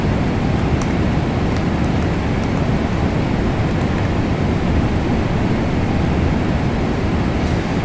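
Steady cockpit engine drone of a Boeing 777 in Microsoft Flight Simulator 2024, a constant broadband roar with faint clicks, loud and unchanging, with no talk.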